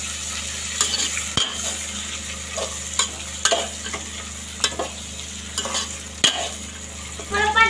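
Peanuts frying in a pan with a large chopped tomato tossed in give a soft continuous sizzle, broken by scattered clinks and scrapes of a spoon stirring against the pot.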